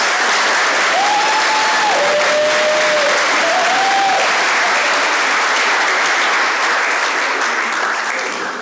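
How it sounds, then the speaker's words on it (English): A hall of fame ceremony audience gives sustained, dense applause, loud and even from start to finish with a few faint whoops, tapering slightly at the end. "Let's give them another round of applause."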